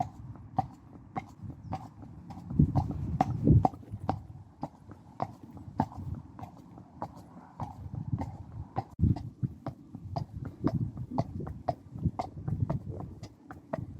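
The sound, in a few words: horse hooves clip-clopping during a ride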